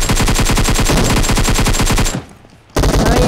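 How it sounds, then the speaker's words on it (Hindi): Rapid automatic gunfire rattles loudly in a battle royale video game, a long sustained burst that cuts out briefly before the shooting resumes. "मैं थोड़ी और फायर करता हूँ तो वे रुक जाते हैं"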